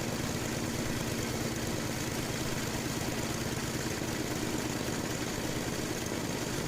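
A Murray Estate dual-stage snow blower engine idles slightly fast, a steady, fairly faint mechanical drone with a rapid even pulse that holds without change throughout.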